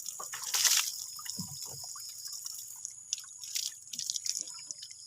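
Water dripping and trickling from a makeshift bamboo pipe tap in a rural field, with irregular close drips and splashes over a quiet background.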